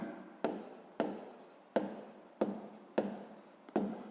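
A pen scratches across paper while working a fifth-grade math exercise, in six distinct strokes at a steady rhythm, each starting with a sharp attack and fading, close and fairly quiet.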